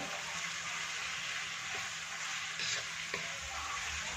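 Onions with salt sizzle steadily in a pan for a masala dosa filling, a continuous broadband fry with a few faint scrapes of stirring and no voices.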